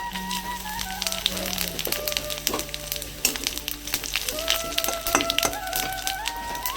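Whole cumin and other whole spices sizzle in hot oil in a wok during village cooking, a steady crackling fry with scattered pops, while a voice talks over it throughout.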